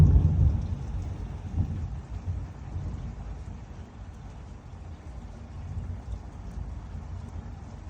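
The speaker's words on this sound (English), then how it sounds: "Now it's really pouring down rain." Heavy rain pours down during a severe thunderstorm in Greenwood, Indiana, with a loud rumble of thunder at the start fading into a steady, dense roar of rainfall that continues throughout.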